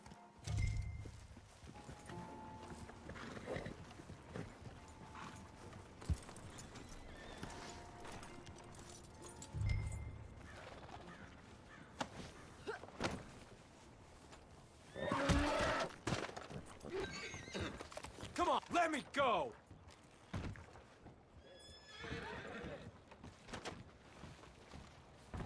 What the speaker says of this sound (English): This fucking horse just fucking kicked me, friend